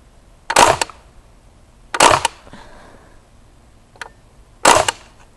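An Umarex Legends M1A1 airgun fires three loud, sharp shots up close, spaced unevenly over a few seconds, with faint handling noise between them.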